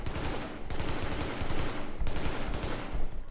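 Assault rifle fire in the video game The Division rattles out in dense automatic bursts, with brief gaps between strings of shots at a steady, fairly moderate level.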